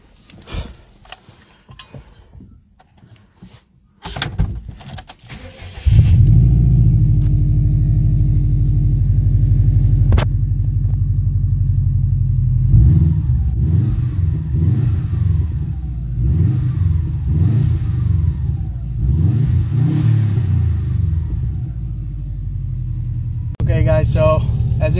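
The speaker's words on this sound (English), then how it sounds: "I'm gonna start the car now." A Subaru STI engine with an HKS blow-off valve cranks and catches after some quiet handling noises, then idles loudly and revs up and down in several swells, close by.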